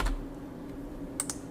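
Computer keyboard keys tapped while entering a value in drafting software for a floor plan, a few soft isolated clicks followed by a quick close double tap, near and clear over quiet room noise.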